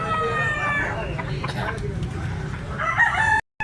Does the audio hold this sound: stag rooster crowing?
yes